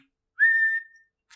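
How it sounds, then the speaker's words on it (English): A referee's whistle gives one short clear blast to start a Quidditch match, a rising shrill tone that holds steady for about half a second and then cuts off, heard alone. "On my whistle, said Madam Hooch. 3, 2, 1"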